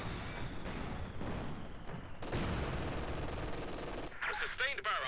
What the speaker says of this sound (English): A sustained barrage is being fired as ordered.